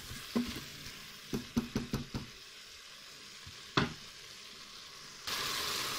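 Beef and a stock cube are stirred in a Cookeo multicooker, a series of sharp close scrapes and taps in an uneven rhythm over a quiet sizzle, ending in a louder steady hiss.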